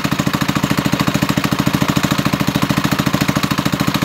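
A Doodle Bug 97cc mini bike engine idles while warming up, a loud, steady, rapid chugging putter with an even pulsing rhythm close by, no voices.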